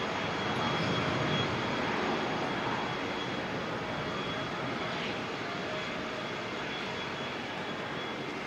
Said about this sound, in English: What a machine. Love the 777.